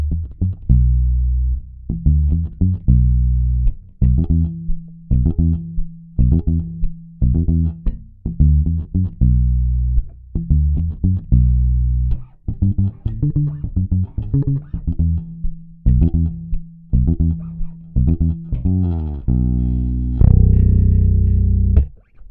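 Ernie Ball Music Man StingRay Special bass with treble cut and bass boosted for a reggae tone, playing a deep, round, rhythmic line of short plucked notes, alone and up close, ending on a sustained low note.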